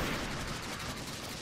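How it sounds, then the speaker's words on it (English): Harpies firing in the Destiny: Rise of Iron video game, a dense, continuous burst of energy-weapon gunfire rattling without pause for over a second, loud and close. "I'm taking fire from harpies here on the left"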